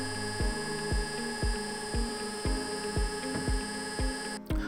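A drill press motor, directly driving the spindle without gears or belts, whines steadily while short thumps repeat at a regular pace, about two per second, close and fairly quiet.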